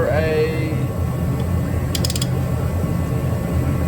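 A wrench or ratchet works loose a large 35 millimeter brake nut on a Buick, giving a short burst of rapid metallic clicks over a steady low mechanical hum, up close.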